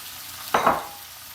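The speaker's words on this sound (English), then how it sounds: "start adding the rest of the vegetables into this skillet over here" Carrots and onion drop into a hot skillet and break into a brief burst of sizzling and stirring, then quiet back down to a low background hiss.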